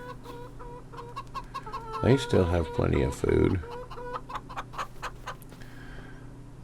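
Chickens in a homestead survival video game cluck repeatedly, with a louder flurry of squawking in the middle, while a person speaks calmly over the birds.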